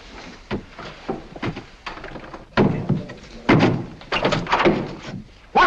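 Steam knocking inside old water pipes: irregular dull thunks and bangs, some single and some in quick clusters, growing louder toward the end and heard close by without talk.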